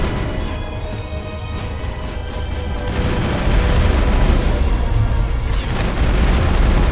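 Continuous dense gunfire and booming blasts from the Mass Effect video game, loud and sustained, growing heavier partway through, with no talking.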